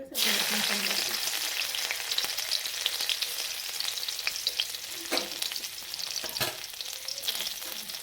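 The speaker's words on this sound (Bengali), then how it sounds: "তেল গরম হয়ে যাওয়ার পরে দিয়ে এটার মধ্যে হালকা একটু রসুন সম্বার দেব" Garlic tempering frying in hot oil, a bright, close, crackling sizzle that bursts in at the start and stays steady, broken by a few sharp stirring scrapes and clinks.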